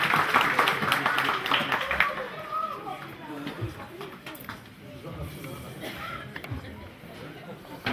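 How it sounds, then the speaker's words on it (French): Applause greets Pastor Luc Lecoussac at a 50th birthday celebration, loud at first and then thinning out into scattered claps and murmuring from the room. "qu'on peut applaudir"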